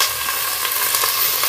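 Onions sautéing in a hot pan, a dense, steady close-up sizzle with faint stirring, continuous and loud throughout the brief moment.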